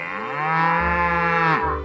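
A cow moos in the Story of Seasons Pioneers of Olive Town video game, one long, loud, close bellow with a rising pitch, alone without talk.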